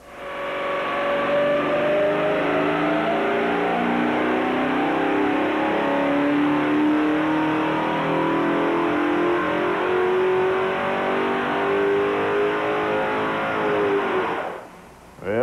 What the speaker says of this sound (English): We're using Indy Cylinder Head's dyno for this big test, and as soon as Chuck sets the timing, we'll be ready for a run